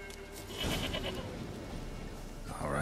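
A goat in the video game The Witcher 3: Wild Hunt bleats in a few short, close cries, with a brief rustle near the end.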